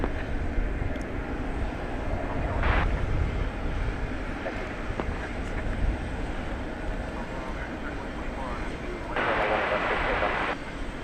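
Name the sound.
American Airlines Boeing 737-800 arriving from Denver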